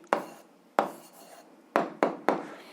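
A hand writes down an answer, giving five short, sharp scratchy strokes at uneven intervals, close and crisp against near silence, with no talking.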